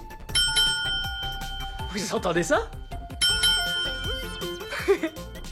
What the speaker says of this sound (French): Oh, une sonnette.